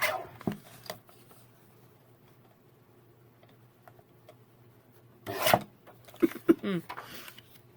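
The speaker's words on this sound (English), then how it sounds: "mark where we need to cut it, and we'll trim that off" Paper being trimmed for a Christmas-themed altered planner journal, with a few short rasping cuts near the start and a louder cluster of scraping, snipping sounds late, separated by a long quiet stretch.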